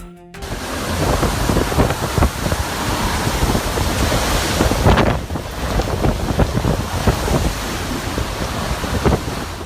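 Strong wind gusts on a street in Osaka roar and buffet the microphone in a loud, continuous rush, surging and easing briefly before pounding on again.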